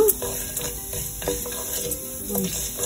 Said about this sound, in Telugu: ఇందులో ఆవాలు, జీలకర్ర, మినపప్పు అనేది వేస్తున్నాను. ఇవి బాగా వేగిన తర్వాత